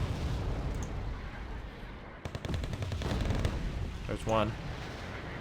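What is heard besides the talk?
artillery fire and gunfire in Wargame: Red Dragon video game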